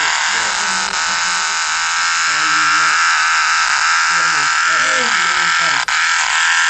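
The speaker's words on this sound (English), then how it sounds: "all of those were insect sounds" A loud, dense buzzing drone fills the recording, with low croaking chirps pulsing in short bursts over it, like a chorus of insects heard close up.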